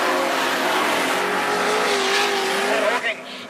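Outlaw Sedans race cars launch into a heat on a slippery track. Their engines form a loud, rising roar with climbing tonal whines, and a commentator talks throughout.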